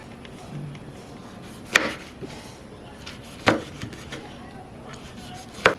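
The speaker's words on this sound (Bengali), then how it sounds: "এবার টমেটোটারে কাটতে নিন।" A knife chops through a tomato in a home kitchen while a Bhola fish curry is being prepared: three sharp, separate cuts spaced a couple of seconds apart over a quiet background.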